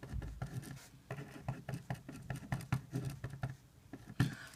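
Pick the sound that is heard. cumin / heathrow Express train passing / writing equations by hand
writing equations by hand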